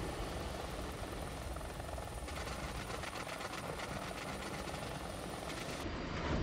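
A helicopter in the War Thunder combat game hums with a steady rotor and engine drone, a continuous mechanical whir that stays at an even level with no voices over it.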